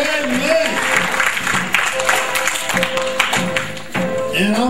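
A church congregation claps hands in scattered, uneven bursts while a voice talks and calls over the clapping throughout.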